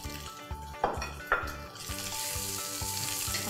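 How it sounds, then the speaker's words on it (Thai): Mushrooms, tofu and mixed three-colour vegetables stir-fry in a hot pan, giving a steady sizzle with a couple of sharp utensil scrapes and knocks early on, all close and with no talk. "แล้วก็คั่วไปเรื่อยๆ"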